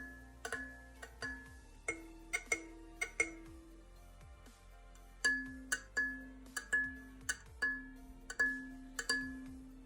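Kalimba tines plucked in a sparse melodic pattern, with bright ringing notes and a metallic buzz where a nail touches a vibrating tine, close and quiet with a short pause midway.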